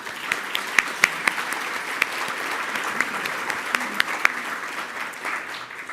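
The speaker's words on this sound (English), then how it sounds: "Let's give a round of applause for our fellows." An audience at a North Carolina luncheon gives a sustained round of applause, many hands clapping steadily for several seconds with a few louder claps standing out.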